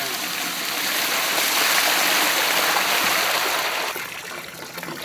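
Water pours and splashes in a steady rushing stream in a village kitchen, loud and close, then eases and thins near the end.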